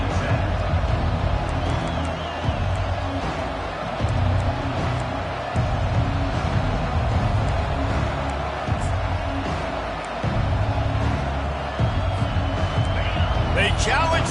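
Large stadium crowd at an American football game roars steadily throughout, a dense continuous wash of cheering and noise with a commentator talking over it.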